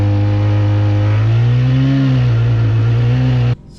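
An old outboard engine on a cheap, worn boat with a troubled fuel pump runs loud and steady near at hand, its deep droning tone rising and falling slightly before cutting off abruptly near the end.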